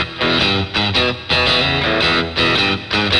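Electric guitar plays a blues-style riff through a Headrush pedalboard, its distorted chords ringing loud and sustained under a long Rich Hall reverb placed at the end of the effects chain, with brief gaps between phrases.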